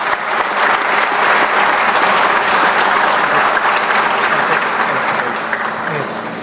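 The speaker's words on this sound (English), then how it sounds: "So they all deserve one more big round of applause" Audience at India Startup Festival gives a sustained round of applause, dense and loud, steady throughout with no pause.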